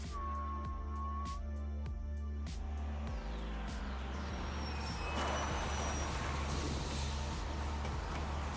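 City bus pulling in within the Road 96 video game, a low rumbling engine with a hiss of air brakes and rising traffic noise, steady and close with no talk.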